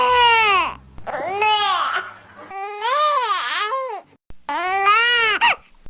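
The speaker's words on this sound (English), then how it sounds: "The hunger sound. This is often the first sound you'll hear from your newborn" A newborn baby makes its hunger sound, the "neigh" cry, a series of loud, close, wailing cries in several bursts separated by short pauses.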